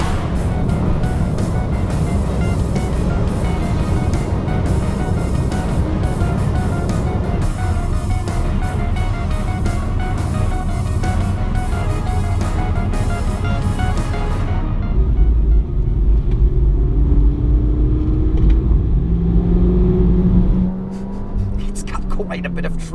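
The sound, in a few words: Peugeot 208 GTi 1.6 engine while driving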